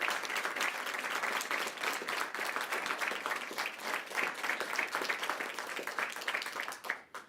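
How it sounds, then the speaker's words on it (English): An audience at a Chicago police press briefing gives a warm round of applause, a dense, continuous patter of many hands at steady loudness that tapers off at the very end. "Let's give him a nice, warm round of applause."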